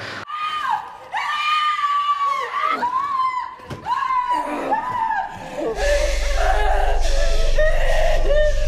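A woman in a horror film screams hysterically, with gasping wails that rise and break into sobbing cries. Her voice is loud and close, and a heavy low rumble swells beneath her near the end.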